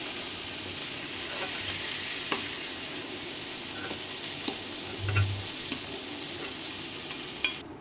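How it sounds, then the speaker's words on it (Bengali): Prawns fry in oil in a pan with a continuous close sizzle, broken by occasional soft clicks and scrapes as the pieces are turned. "মাছগুলো উল্টিয়ে দিচ্ছি, উল্টিয়ে আবার আমি 1-2 মিনিট ভেজে নেব।"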